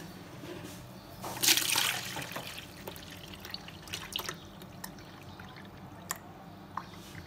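Water drips and trickles while it is drained off from beneath homemade desi ghee. A faint, quiet series of small drops follows a short pouring splash near the start.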